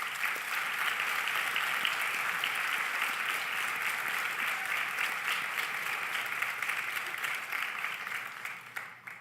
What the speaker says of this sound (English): join me in a round of applause for those who supported you